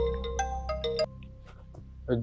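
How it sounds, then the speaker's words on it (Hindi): A phone ringtone plays a short run of bright electronic notes, followed by a brief voice. "फोन आ रहा है।"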